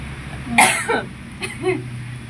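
A few short coughs, one sharp cough followed by a couple of softer ones, close to the microphone over a low background hum.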